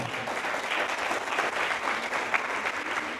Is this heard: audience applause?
yes